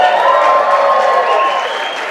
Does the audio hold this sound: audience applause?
yes